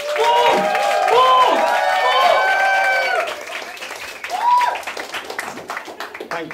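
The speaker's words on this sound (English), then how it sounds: "applause, ladies and gentlemen" An audience at a 2012 Science Showoff evening applauds and cheers a performer coming on, with loud clapping mixed with whoops and voices at first, then thinning to scattered claps.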